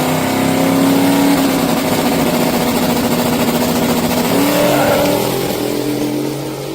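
A small tire drag race car makes a second-round pass, its engine roaring loud and close with a steady high-pitched drone that shifts up in pitch partway through, then eases slightly toward the end.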